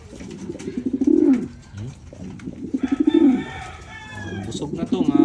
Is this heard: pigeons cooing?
yes